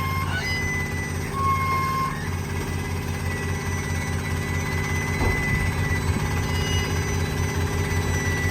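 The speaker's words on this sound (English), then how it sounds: "And then keep pulling in on the winch." A roll-off truck's winch pulls a dumpster onto its lowered rails, a loud, steady low engine drone with a pulsing mechanical throb and a brief whining tone, continuous throughout.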